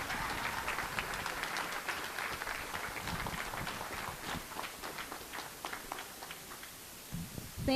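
An audience greets a keynote speaker at a Nigerian diaspora event in Calgary with steady, dense applause that carries on for several seconds before starting to thin.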